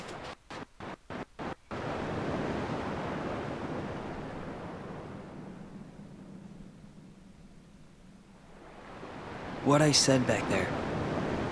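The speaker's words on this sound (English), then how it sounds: "least the waves sound the same" Ocean waves washing onto a shore in the video game Kingdom Hearts 2, a broad steady surf hiss that swells and fades, heard after a short burst of speech, with another voice speaking briefly near the end.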